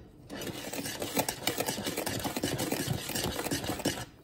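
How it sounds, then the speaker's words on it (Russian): Semolina mannik cake batter being stirred in a bowl, a rapid, steady clattering and scraping rhythm that runs close and continuously throughout. "Перемешиваем."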